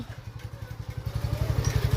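A motorcycle engine putters rhythmically nearby, its low pulsing growing slightly louder over two seconds.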